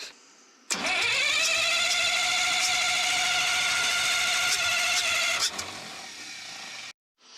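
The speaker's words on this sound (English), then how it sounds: "Engine start, 200 amps." The 3306 diesel engine of a Cat D5 bulldozer cranks on a 200-amp start and roars to life, then holds a loud, steady rumble for several seconds before cutting off abruptly.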